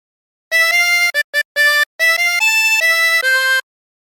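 A 20-hole tremolo harmonica plays a short melody from the sea shanty Wellerman alone, mixing quick staccato notes with longer held tones, bright and close.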